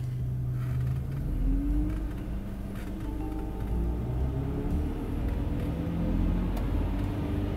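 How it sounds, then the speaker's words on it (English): A BMW M54 engine, idling with a lack-of-power fault, rises in pitch as the gas is pressed, a close low rumble climbing and falling with faint ticking, alone without talk. "When the car is idling, I'm gonna see what's going on when I'm gonna hit the gas."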